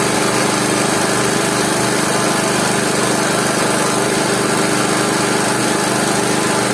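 A generator rewound from three-phase to single-phase runs steadily, a loud continuous high-pitched engine drone with no change throughout.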